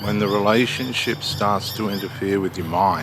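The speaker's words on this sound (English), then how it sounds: "You'll hear the Australian birds in the background." Australian birds squawk and call in the background while someone talks steadily over them in the foreground.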